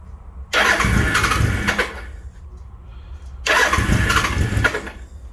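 A restored 1983 Suzuki GS motorcycle engine cranks and catches in two loud bursts, each running roughly two seconds, with a quieter idle-like lull between them, heard close up with no talk.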